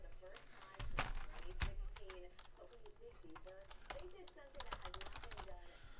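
Rapid clicking keystrokes on a computer keyboard, steady and close, with a person talking over the typing throughout.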